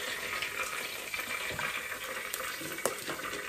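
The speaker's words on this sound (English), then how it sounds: "So the bacon is beautifully crispy and still sizzling." Crispy bacon sizzles hot from a cooking appliance with a crisping feature, a steady close hiss and crackle with occasional pops, heard alone.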